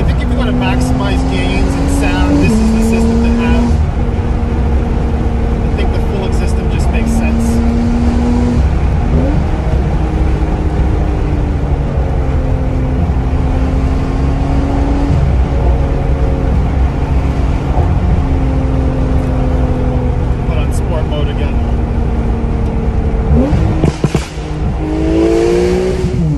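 Heard from inside the cabin, a Porsche 991.2 GT with a Kline Inconel exhaust accelerates hard and roars loudly through repeated upshifts and rising revs. Engine noise fills the whole stretch, and faint talk may sit beneath it.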